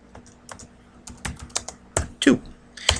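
Irregular keystrokes on a computer keyboard as a folder name is typed, several close clicks and taps with uneven spacing and a few heavier presses near the end, no talk.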